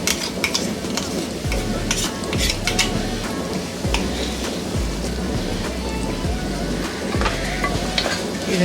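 Ground masala paste with salt stir-fried for capsicum lemon rice, a constant loud sizzle broken by repeated scraping strokes of a spatula against the pan.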